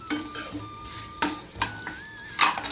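Vermicelli stirred and roasted in a pan for semiya kesari, a spoon scraping and clinking against the metal in a few sharp strokes over a soft steady sizzle.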